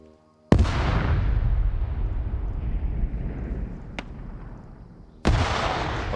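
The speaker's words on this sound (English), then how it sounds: "we're seeing explosions in the north" Explosions in an Arma Zeus operation: two loud, heavy blasts several seconds apart, each followed by a long rumbling decay, with a sharp distant crack between them.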